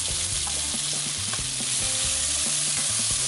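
Potatoes frying with browning bacon in a cast-iron Dutch oven, a steady loud sizzle with scattered crackles and pops, no talking.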